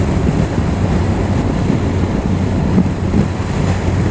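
Strong wind sweeps across open fell terrain at Kilpisjärvi, roaring loudly and constantly with heavy buffeting against the microphone, with no speech heard.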